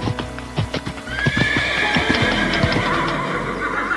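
A horse neighs and whinnies in a long rising-and-falling call, mixed with clip-clopping hooves and other farmyard noises, close and fairly loud.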